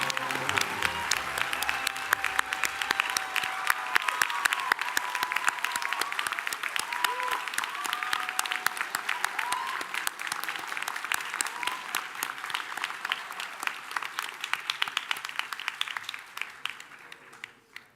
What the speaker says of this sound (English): let's have a round of applause for our pastry and baking graduates